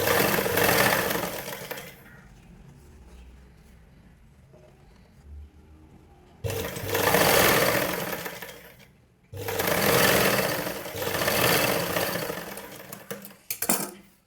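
A sewing machine stitching the lining of a blouse runs in three loud bursts of fast, steady whirring and clatter. Quiet pauses separate the bursts, and small handling clicks close out the sequence.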